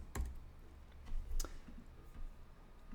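Keys tapped on a computer keyboard while typing code: a few sparse, soft clicks at irregular intervals, close but faint, with no voice.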